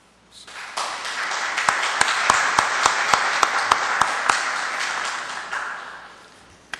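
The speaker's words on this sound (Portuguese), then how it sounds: "fazermos por aclamação da Assembleia com uma salva de palmas" Standing applause fills a municipal assembly hall: a steady wash of clapping swells quickly, holds for several seconds with a few sharp claps standing out, then fades away.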